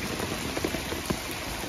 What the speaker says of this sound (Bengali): বৃষ্টির মধ্যে আম কুড়ানো